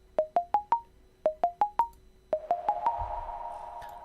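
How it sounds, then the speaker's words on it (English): A sine wave synth melody pitched up two octaves plays dry with no reverb: short, bright, quickly decaying notes in rising four-note arpeggio groups, repeated, then a denser run with a soft low thump at the end. "that's again just a sine wave, pitched up, 24 semitones, 2 sine waves I think"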